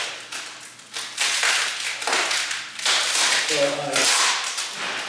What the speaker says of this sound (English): but let me just rip it open